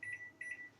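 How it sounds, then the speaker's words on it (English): A kitchen timer beeps twice, two short high electronic double-tone chirps, faint and clean with nothing else behind them. "let me set a timer"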